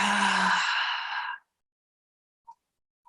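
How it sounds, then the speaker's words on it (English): A single long, breathy exhale through an open mouth closes a yoga practice, soft and close for just over a second before quiet, with faint clicks afterward. "Open your mouth, exhale completely."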